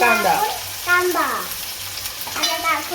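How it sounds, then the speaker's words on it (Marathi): Onion, with gram flour mixed in, sautés in a pan in a home kitchen. A steady close sizzle sits under repeated stirring strokes that give off scraping squeaks. "कांदा चांगला परतून घ्यायचा"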